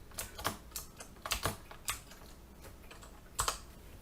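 Typing on a computer keyboard: scattered, crisp key clicks in small irregular bursts, close and fairly quiet, with no voices.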